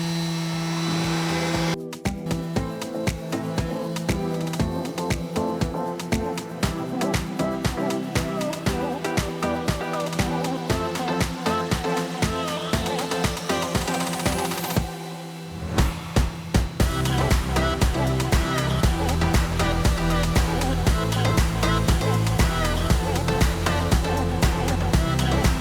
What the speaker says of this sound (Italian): io continuo a carteggiare dappertutto